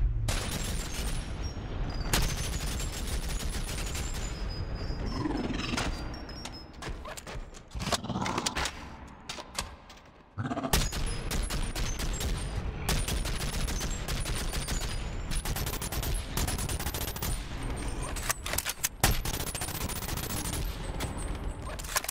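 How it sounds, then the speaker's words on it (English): Rapid fire from the PDRC gun in the VR game BoneLab, long fast bursts of shots with a short lull in the middle. The bursts are loud and sharp, with no talking. "The PDRC. It has a really fast fire rate."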